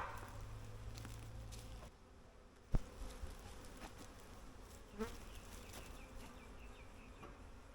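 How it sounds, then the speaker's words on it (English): Agitated honeybees buzz around an opened hive during an inspection, a dense steady drone throughout with a few close sharp knocks and handling sounds partway through. "I'm getting some quite upset bees."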